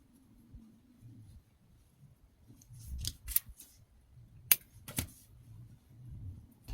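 A few sharp scissor snips cutting yarn close by during crochet, two or three quick cuts standing out against faint low background rustling.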